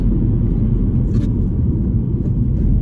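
A 2016 Mini John Cooper Works F56 gives a steady, close exhaust burble and low rumble while driving, loud and continuous without speech.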